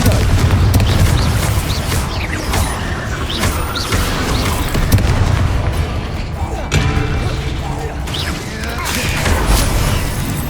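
Confringo fiery blast spell in Hogwarts Legacy combat, loud booming explosions and crashing impacts layered over a dense battle din and music, with a voice calling out spell names.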